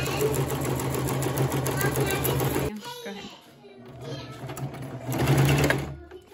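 Home sewing machine stitching a tote bag made from a feed bag: steady loud motor whir with rapid needle chatter, a brief pause midway, then stitching resumes while people talk nearby.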